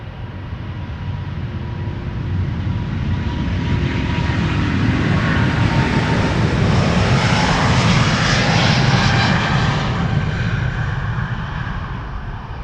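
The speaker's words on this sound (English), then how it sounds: "That's the third Delta A350 of the show, I think. Turning and burning." A Delta Airbus A350 jet takes off from Amsterdam Schiphol, a loud steady engine roar that builds and holds throughout, heard from close by with no voices over it.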